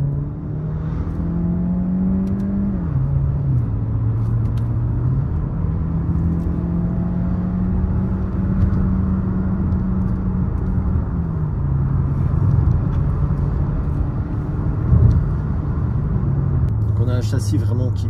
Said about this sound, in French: je vais vous faire une petite montée en mode sport